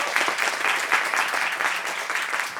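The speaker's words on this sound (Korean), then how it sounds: "박수 한번 먼저 주시고요" Steady, full applause from a seated audience at a book concert, continuous and fairly close, with no talking over it.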